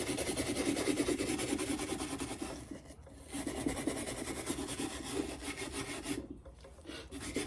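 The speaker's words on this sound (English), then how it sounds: "Let's do some scraping." Burnt wood on a pistol mount stand is scraped by hand, a loud, steady close-up rasping with two short pauses between long strokes.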